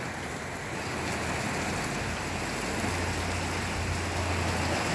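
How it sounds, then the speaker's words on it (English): Heavy rain pours outside a garage during a springtime thunderstorm in Iowa, a dense, steady hiss of drops drumming on surfaces, close and unbroken with no voices over it. "It's raining, it's pouring"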